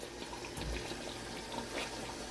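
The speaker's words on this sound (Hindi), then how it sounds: "तो हमने इसमें आधा कप पानी डाल दिया है, ताकि ये थोड़ा सा मसाले के साथ पक जाए हमारा चिकन।" Half a cup of water poured into chicken korma, a Mughlai dish simmering with spices and cream; a steady, close splashing wash of liquid running continuously throughout with no talk.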